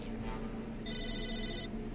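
A telephone rings in the video game Psychonauts, a steady electronic ringing tone with a brighter burst partway through, heard over constant game background sound.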